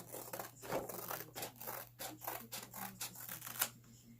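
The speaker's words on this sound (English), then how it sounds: "So you just cut your stencil along that line." Scissors cutting a paper stencil along a marked line: a steady series of soft snips and paper rustles, close and fairly quiet, over a low constant hum.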